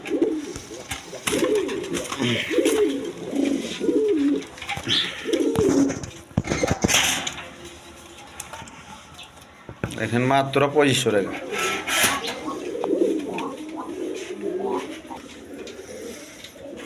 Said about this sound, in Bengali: বড় একদম ফ্রেশ কবুতর দেখেন